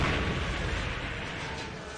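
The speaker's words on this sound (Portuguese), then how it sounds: "Explodiu o Siri Cascudo" The Krusty Krab blowing up in a video game: a dense, loud, sustained roar of explosion noise that rumbles broadly and fades slightly over two seconds.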